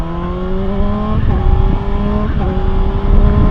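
A car drifting, its engine revving in rising and falling sweeps with brief squeal-like breaks as it slides, loud and close with steady road rumble underneath.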